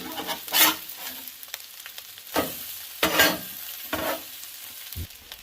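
Hash browns sizzle on a Blackstone griddle in a kitchen, with bursts of stirring and scraping at uneven intervals over a quiet, steady frying hiss.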